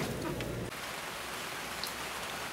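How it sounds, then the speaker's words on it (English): Steady outdoor rain in Western Washington hisses evenly throughout, with a low rumble in the first moments that then drops away, and no voices. "So, bad thing, it's raining."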